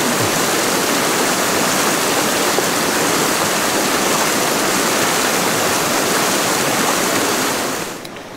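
A Pennsylvania brook trout stream rushes in a dense, steady wash of flowing water, loud and close, with no voices, fading slightly at the very end.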